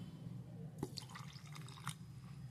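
About half a cup of milk is poured into cake batter, giving a short close trickle and splashing burst with a couple of drip-like plops against a steady low hum.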